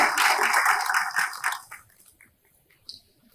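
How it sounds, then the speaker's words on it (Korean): An audience at a regional studies forum applauds a late-arriving association chairman, a dense burst of clapping that thins out and fades to scattered claps within a couple of seconds. "박수 부탁드리겠습니다."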